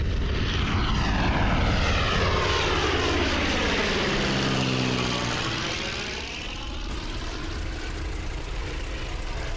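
A propeller biplane in Ford National Air Tour livery makes a loud fly-by at the 2021 EAA Chapter 292 fly-in. Its engine drone rises to a close pass, shifts pitch as it goes by, then eases off slightly.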